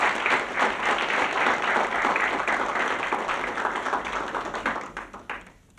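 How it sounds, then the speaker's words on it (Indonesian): An audience claps steadily through the whole stretch, a dense even applause that tapers slightly near the end, with no talk over it. "Kita tepuk tangan dulu ya."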